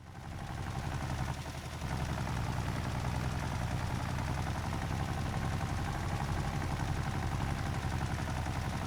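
Tractor engine idling in the video game Farming Simulator 25, a steady low mechanical drone with constant rattle, holding even throughout with no talk.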